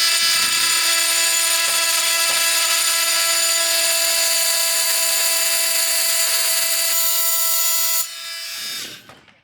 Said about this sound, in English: I have a multi-tool, and I use this Bosch carbide bit.